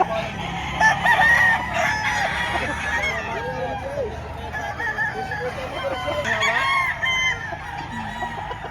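A rooster crows repeatedly, with hens clucking around it, at a busy chicken market in Padre Garcia, Batangas; a murmur of crowd noise and voices runs steadily underneath.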